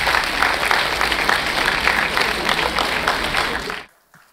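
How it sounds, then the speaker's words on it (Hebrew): Loud, dense applause from a crowd at a dance show in Ashdod, sustained for several seconds before cutting off. "אז קבלו אותו במחיאות כפיים לבמה בבקשה"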